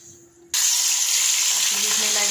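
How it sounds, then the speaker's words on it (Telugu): Prawns hit hot oil and break into a loud, steady sizzle that starts abruptly and carries on without letup, close by, with no voices. "ఇప్పుడు వీటిని డైరెక్ట్గా ఆయిల్లో వేసి ఫ్రై చేసుకుందాం"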